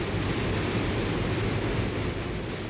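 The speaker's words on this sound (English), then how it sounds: "the Zambezi plunges over a cliff and thunders into a chasm" Victoria Falls on the Zambezi thundering into a deep chasm, a dense, steady roar of falling water like heavy broadband rushing, unbroken and loud throughout.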